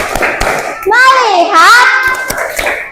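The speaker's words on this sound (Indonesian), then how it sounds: "Fokus, kita tepuk fokus dulu. Tepuk fokus." Schoolchildren in an elementary classroom chant and clap in the tepuk fokus routine, sharp hand claps punctuating a rising, sung group chant, close and loud.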